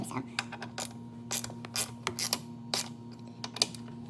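A ratchet socket tool loosening M8 seat screws in a car, rapid close clicking ratchet bursts over a steady low hum, with short pauses between pulls.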